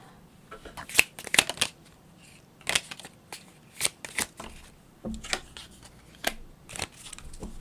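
Tarot cards being shuffled up close in quick bursts of riffling and flicking, separated by brief pauses, quiet and without speech.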